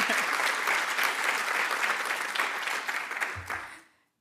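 Audience applause at a women in science symposium, a steady dense wash of clapping from a large crowd that holds for about three and a half seconds, then fades out quickly.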